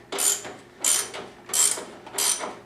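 A hand ratchet tightens engine bolts on a 1988-2003 Yamaha Blaster, four quick close clicking strokes in an even rhythm with short pauses between.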